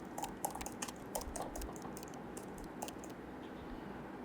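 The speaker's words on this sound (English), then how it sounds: "in this sheet we will type" Quiet clicking keystrokes tap on a computer keyboard as someone types into a Google Sheets spreadsheet, coming in uneven bursts before the typing trails off into faint room hiss.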